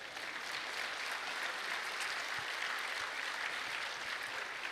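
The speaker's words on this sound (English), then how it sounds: "Let's give them a round of applause." Audience applause for cabinet members at an official Independence Day ceremony in a capital courtyard, a steady, even wash of clapping from a distant crowd, faint and continuous throughout.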